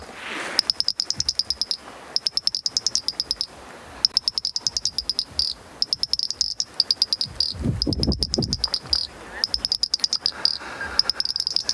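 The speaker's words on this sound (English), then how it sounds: "While we listen to these little frogs" Small frogs calling at sunrise at Djuma Private Game Reserve, a dense run of rapid, repeated high chirps in pulsing bursts. A low rumble intrudes near the middle, and no one speaks.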